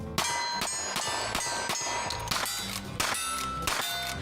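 Bullets strike steel targets in cowboy action shooting, giving a rapid series of loud metallic clangs and ringing dings at a steady pace with no talk.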